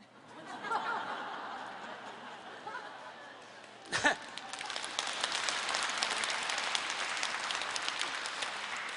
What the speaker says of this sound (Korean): 지금 박수 치시는 분들은 굉장히 불행한 삶을 살고 있는 걸로.